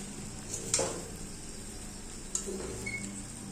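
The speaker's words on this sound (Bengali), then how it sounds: "তারপর একটু নাড়াচাড়া দিয়ে নিচ্ছি।" Maggi noodles stirred in a frying pan over a steady low sizzle, with two brief scraping clatters of a utensil against the pan, close and moderately quiet, no voices.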